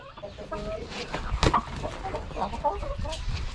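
A Dekalb Brown hen clucks nearby in short, irregular calls, with scratchy movement noises mixed in and a louder burst near the middle.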